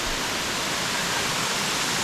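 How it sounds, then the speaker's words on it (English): Waterfall cascading down at Hanging Rock State Park, a loud, dense, unbroken roar of rushing water heard close by with nothing else over it. "But you can hear the noise of the waterfall. But it is absolutely cascading down."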